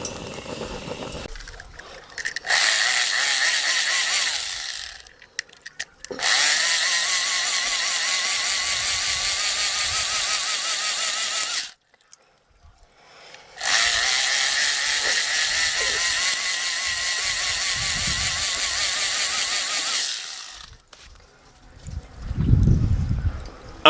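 A cheap Temu handheld BBQ blower runs loud and steady in two long bursts of several seconds each, its roar like a jet taking off, with short silent gaps where it is switched off, then faint handling noise at the end.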